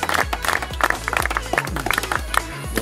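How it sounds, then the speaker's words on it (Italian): Applause at a football club's season-opening summer gathering: a crowd claps in a steady, moderately loud patter, with some thumping lower noises mixed in, lasting just under three seconds. "Dai, un applauso."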